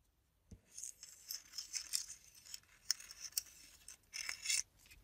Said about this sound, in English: I'm going to cut my pieces.